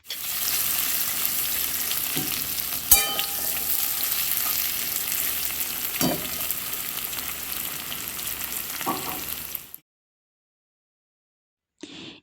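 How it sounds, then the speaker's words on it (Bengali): Potatoes sizzle and fry in hot oil with a fried fish head in a pan, a steady crackling hiss with a few stirring clunks, then silence and a brief return of the sizzle. "সবার প্রথম আমি এখানে আলু দিয়ে দিচ্ছি আলুটা কষে নেব"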